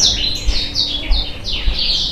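Small caged birds and their chicks chirp steadily in a home breeding setup, a quick run of bright, repeated high tweets close by with no talking over them.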